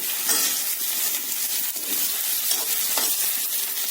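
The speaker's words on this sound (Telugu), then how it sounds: "అరటికాయ తర్వాత దొండకాయ ముక్కలు వేసుకోండి" Ivy gourd pieces go into a cooking kootu, giving a constant close sizzle under repeated scraping stirs of a spoon through the vegetables.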